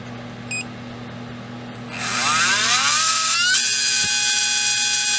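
A REDS Racing VX4 PRO stock 17.5T brushless RC motor revs up during an RPM test, its whine rising steeply in pitch and then holding at a loud, steady high-speed tone, heard close and alone.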